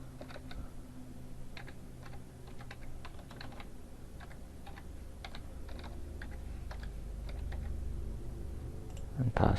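Keys clatter steadily on a computer keyboard as an email address is typed in at a login screen, a close, even run of light clicks with short pauses, ending in a louder bump.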